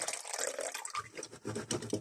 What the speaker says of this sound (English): Going to put in some water,